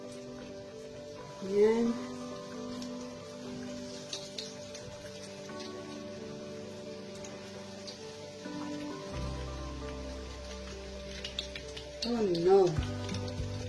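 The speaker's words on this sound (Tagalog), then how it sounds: "We will deep fry it on the pan." Soaked food deep frying in a pan, a steady oily sizzle running under a person talking, with a couple of louder crackling bursts.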